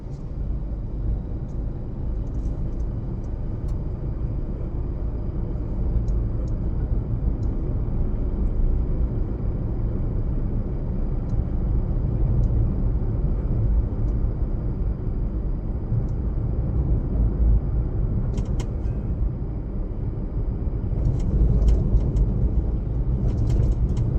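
A manual car driving in fourth gear during a driving lesson, heard from inside the cabin as a steady low engine and road rumble, fairly loud and even, with a slight rise near the end.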